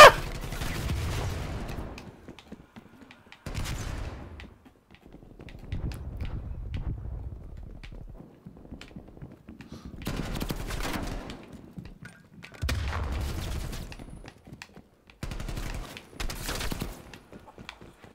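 Video-game gunfire in a Call of Duty Cold War prop hunt match, loud bursts of rapid shots in several separate volleys with short quiet gaps between them.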